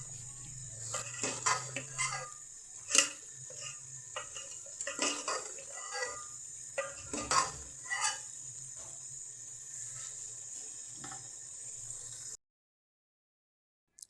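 Cauliflower for yakhni pulao fries in oil in a pot as its water dries off, giving steady faint sizzling with repeated clinks and scrapes of a spoon against the metal, and no voices.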